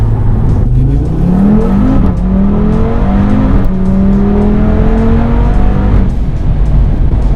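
A limited-edition 500 hp Audi TT RS-R ABT with a dual-clutch gearbox accelerates hard, its engine revving loud and close, climbing in pitch through several quick gear shifts with no speech.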